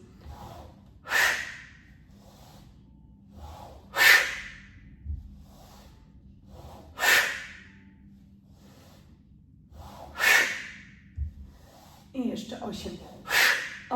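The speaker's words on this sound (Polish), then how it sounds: "gwałtownie z siebie wyrzucam powietrze na zasadzie tego oddechu ognia, zaciskając mocno brzuch, żeby się zrobił płaski" Breath of fire yoga breathing, forceful exhalations through the nose, five sharp, loud bursts spaced roughly three seconds apart over a quiet background, each with a short hissing tail.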